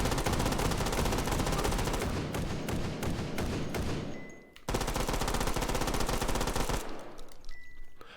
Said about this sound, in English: I love that little ding at the end there